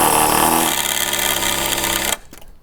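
A power drill bores into a hard metal screw with a loud, high whine that holds steady for two seconds, then cuts off abruptly and spins down.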